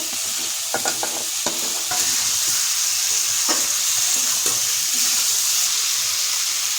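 Fried potatoes and eggplant stirred into sizzling spice paste for a Bengali fish curry, a bright steady hiss of frying with a spatula scraping and knocking against the pan several times, no talk.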